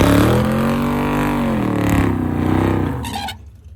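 Drag-strip race cars at Yellowstone Dragway roar loudly and steadily, a strong engine drone with shifting pitch held throughout before cutting off abruptly near the end; no talking.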